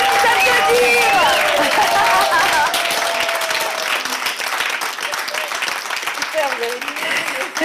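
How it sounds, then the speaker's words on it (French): A live radio studio audience applauds an improv performance, a loud continuous burst of clapping with cheering and overlapping voices running through it for several seconds. "on peut s'applaudir"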